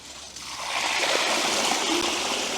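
A RZOGUWEX S7 fat tire e-bike ploughs through a muddy, waterlogged puddle, a loud sustained rush of splashing and spraying water that swells after a quiet start and carries on steadily.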